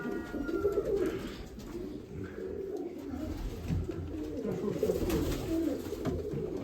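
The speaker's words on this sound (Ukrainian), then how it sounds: "Голуб." Mykolaiv breed pigeons cooing in low, soft repeated calls amid a busy background of rustling and faint ambient noise.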